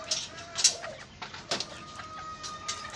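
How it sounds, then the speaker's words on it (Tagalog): Native chickens cluck in short scattered calls, fairly close, over a quiet background with no talking. "Yung mga manok niya yan, oh."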